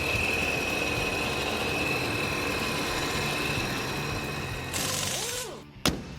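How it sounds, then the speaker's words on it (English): A Dodge Ram 1500 with a 5.7L Hemi and a ProCharger supercharger idles with a steady, loud drone and a thin, constant blower whine, followed by a brief clunk near the end. "Now just start it up, check for leaks, and enjoy that cool blower sound"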